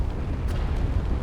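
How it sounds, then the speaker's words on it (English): Coil gun turrets in the Space Engineers game let off a heavy, rumbling blast, a dense low boom that rolls on for about a second. "Okay, Coilguns are firing off."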